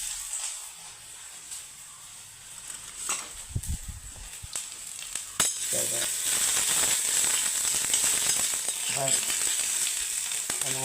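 Mustard seeds and ginger garlic paste frying in a hot pan give a steady, close sizzle that grows louder and denser partway through, with a few stirring knocks.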